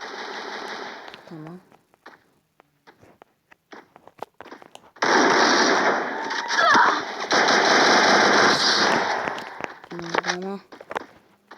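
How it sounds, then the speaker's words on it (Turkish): Rapid automatic gunfire in the Free Fire video game crackles in dense, loud bursts, separated by quieter stretches of scattered single shots and footsteps. "Her yerden mermi yiyorum."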